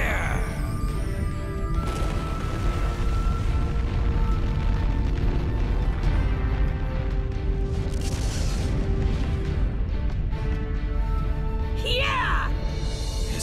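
Loud, sustained rumbling explosions and crashing blasts fill a fight in Naruto Shippuden Ultimate Ninja Storm 4, with dense low booming throughout and a sharper burst near the end, game voices shouting over the din.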